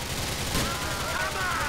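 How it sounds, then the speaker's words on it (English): Gunfire from a Grand Theft Auto IV shootout crackles in a rapid sustained burst, loud and dense over a short stretch, with game noise and a faint voice mixed in. "Sustained firing of your weapon will cause recoil and bullets to spread inaccurately."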